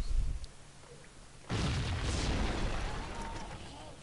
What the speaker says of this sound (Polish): W budynku było mnóstwo ładunków wybuchowych. Ale buchło.